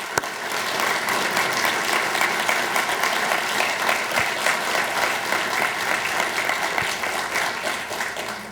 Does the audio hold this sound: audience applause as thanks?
yes